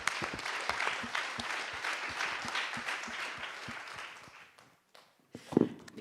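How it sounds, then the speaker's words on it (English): An audience at a business and nature summit claps in a sustained round of applause that fades out after about four seconds, followed by a short pause and a brief voice. "round of applause for everyone for contributing"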